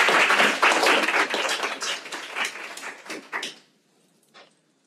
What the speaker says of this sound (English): Also, a round of applause for Christina.